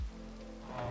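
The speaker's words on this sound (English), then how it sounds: "I don't want the rain to go away" Steady rain falling in Minecraft, modded Sky Factory 3, a soft continuous patter that swells slightly toward the end, with no voices over it.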